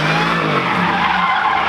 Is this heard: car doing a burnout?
yes